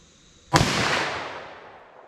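A single sharp report from a .357 SIG handgun fired at a 75-yard target, loud and close, followed by a long echoing tail that slowly dies away outdoors.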